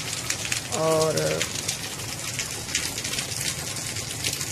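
Rain falling outdoors on an Eid morning, a steady hiss of drops over the whole stretch, with a brief spoken word early on.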